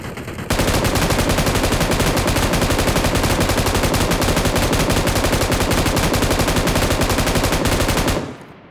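Gunfire in the PUBG mobile video game on the Livik map: a loud, unbroken burst of rapid shots runs for about eight seconds, then stops abruptly.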